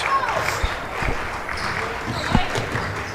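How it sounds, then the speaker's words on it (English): A student section claps at a high school basketball game between the MLHS Lancers and Elkhart Lake Resorters, scattered crowd claps blending with arena noise and occasional ball bounces. "the student section starting to clap here for the Lancers"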